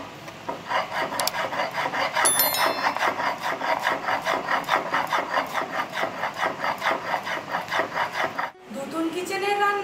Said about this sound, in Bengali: শিলে আমি পোস্ত দিয়ে দেবো, কাঁচা লঙ্কা দিয়ে বেটে নেব।